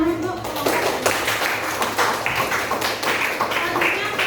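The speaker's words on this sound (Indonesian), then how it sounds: "Tepuk tangan untuk kelompok 2" A classroom group claps for a second student group after its presentation, a few seconds of steady, brisk applause in a small indoor room.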